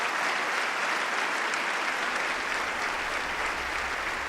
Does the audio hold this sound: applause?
yes